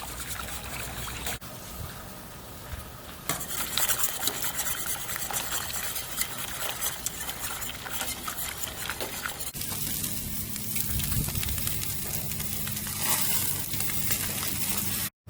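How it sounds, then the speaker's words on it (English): Pineapple rum jerk sauce with dark aged rum bubbling and reducing on a grill, a steady hissing sizzle with watery, gurgling texture that runs continuously and grows denser partway through. "Now is where we're gonna reduce that down"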